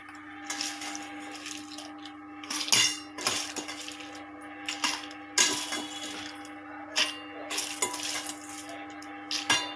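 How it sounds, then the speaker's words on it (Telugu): Roasted curry leaves and dried red chillies tipped into a steel mixer jar in a home kitchen, giving a series of close, sharp clinks and rattles against the metal at irregular intervals over a steady faint background hum. "ఇప్పుడు ఇవి మిక్సీ జార్లో వేసేసుకుందామండి"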